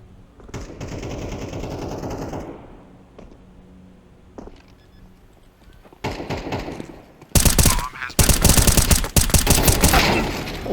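Gunfire in Counter-Strike 2: a few scattered shots give way to loud, rapid automatic bursts that grow denser and more intense toward the end.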